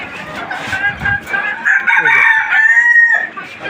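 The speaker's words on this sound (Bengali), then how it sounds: "এখন আবার মুরগি চিল্লাচিল্লি করতেছে।" A flock of free-ranging local hens squawks and clucks loudly and close by in a continuous, agitated chorus lasting a few seconds.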